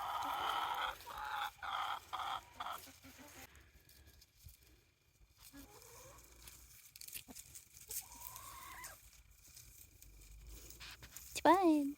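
Chickens clucking around newly installed nest boxes, close, rhythmic bursts of clucks at the start, then scattered softer clucks and rustling, ending with a louder squawk, with some background voice mixed in.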